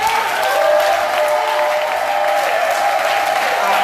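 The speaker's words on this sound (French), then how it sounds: "Je voudrais que tu l'acclames encore." Church congregation applauding during a Sunday worship service, steady dense clapping with some crowd noise throughout, continuous and fairly loud with no break.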